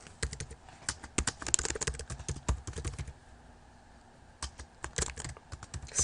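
Rapid, close keystrokes on a computer keyboard as an assignment item is named, coming in dense bursts with a short pause in the middle, no voice over it.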